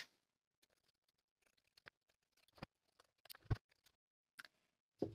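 Scissors trimming the fabric seams of scalloped shorts to about a quarter inch, sewn from McCalls 6930: quiet, scattered snips and clicks in irregular bursts, close up, with soft handling noise between cuts.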